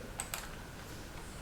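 Soft keystrokes on a computer keyboard: two or three distinct taps close together, then faint quiet typing against a low background hiss.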